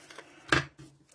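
Scissors cutting a piece for a paper craft, a single quiet close snip with a short crisp crunch, surrounded by faint handling rustle.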